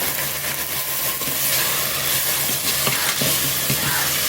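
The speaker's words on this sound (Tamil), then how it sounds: "இப்போ இந்த அவரைக்கொட்டையை அதில் போட்டுக்கிறோம்." Broad bean seeds are stirred in a hot cooking pan for a brinjal and bean kuzhambu, with loud continuous sizzling and repeated scraping strokes close by.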